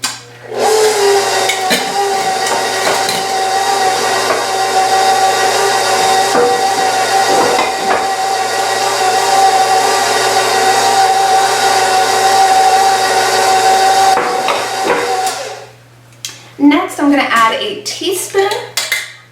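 An electric mixer beats peanut butter banana quinoa bread batter, a loud continuous whirring drone with rattling against the bowl for about fifteen seconds, then cuts off as a voice speaks.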